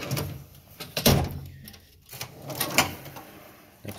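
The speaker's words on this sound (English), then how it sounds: "Next drawer down" A drawer on a Snap-on toolbox slides open with a metallic rolling rattle and a clunk, followed by a few lighter clanks of tools shifting inside, close by and with no one talking.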